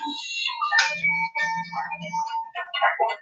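Phone ringtone for an incoming call in a home kitchen, a short electronic melody with tonal notes playing clearly on its own for a few seconds.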